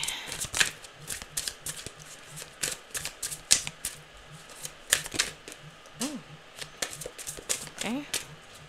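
Tarot cards being shuffled in a run of quick riffling snaps and soft taps, close and moderately loud, with a voice speaking over part of it.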